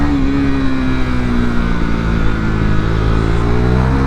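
A KTM motorcycle engine roars steadily at high revs, with rising harmonic whine as it accelerates hard, loud and close throughout with no talk.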